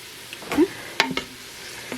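Onions cooking low and slow in a large pot give off a faint background sizzle, broken by a few brief stirring clinks and scrapes.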